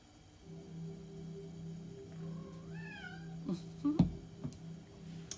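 Jasper the cat gives a rising, wavering meow over a steady low household hum, followed by a few shorter, quieter chirps and murmurs close by.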